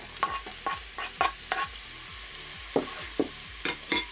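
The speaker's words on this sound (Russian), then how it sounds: "Засыпаем в чашу лук." Chopped onion sizzles and is stirred in the bowl of a Polaris multicooker, with a series of short scraping stir strokes over a steady frying hiss, close and moderately loud.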